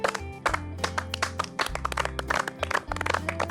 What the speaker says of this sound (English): Tarana's finally clapping.